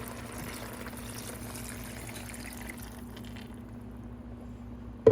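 Chicken stock pours steadily into a jambalaya pot, a continuous close splashing trickle that runs for about five seconds before thinning out.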